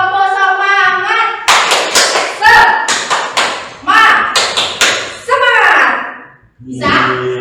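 A group of students claps together in a quick, patterned rhythm, loud and close, mixed with people calling out, in a high school classroom.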